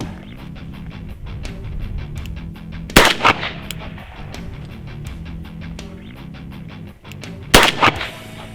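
Smith & Wesson 500 revolver fired one-handed, two loud, sharp gunshots several seconds apart, each a sudden blast with a short ringing tail over steady background noise.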